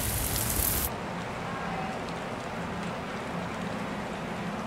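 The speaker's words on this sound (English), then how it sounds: "it gives you some different samples, like this kind of rain" Lo-fi rain ambience sample from the FL Studio Mobile Chill Lo-Fi expansion: a steady, dense hiss of rainfall that keeps an even level throughout, with a brighter burst of noise in the first second before settling.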